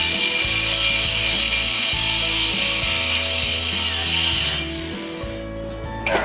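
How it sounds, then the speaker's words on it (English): A steel weld on a teardrop trailer frame is ground down with a power grinder, giving a loud, steady abrasive whine with rough rasping texture that continues alone for several seconds before easing off near the end. "Yeah, I'm going to grind it."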